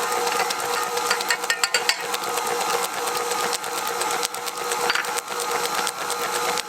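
A dough mixer kneads pizza dough for wood-fired pizza with a steady, close mechanical whir and rattle, broken by occasional light clicks and knocks.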